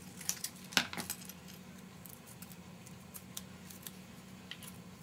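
Scissors snip through handmade floral spray material with a few quiet, crisp cuts near the start, followed by faint rustling and light handling in an otherwise hushed room.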